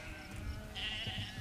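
Herd of goats bleats in a brief, faint, distant burst against a steady outdoor background, with a rough bleating cry in the second half.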